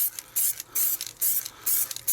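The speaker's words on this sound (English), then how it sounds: "I just need to put my finger in the hole to hold it and spray the rest" Spray paint from an aerosol can being sprayed onto a Doctor Who sonic screwdriver prop: a close, rapid series of about six short hissing bursts separated by brief pauses.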